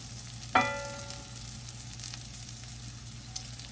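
Cabbage and bacon fry in butter in a pan with a soft, constant sizzle, opening with a sharp metallic clang of a utensil, fairly quiet and steady afterward.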